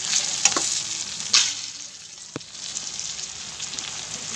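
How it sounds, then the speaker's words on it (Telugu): Tomatoes frying in oil with chicken pieces for a curry, giving a steady broadband sizzle with a few sharp pops and spoon stirs, close and continuous with no talk. "ఇప్పుడు టమాటాలు వేసేసుకున్నాం."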